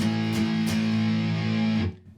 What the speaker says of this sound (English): If you play on all 4 beats, it would sound like this.